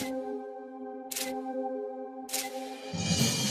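A camera shutter firing in quick continuous bursts for astronomical imaging, sharp clicks at roughly one-second spacing over a steady tonal hum, ending in a denser rattle of shots.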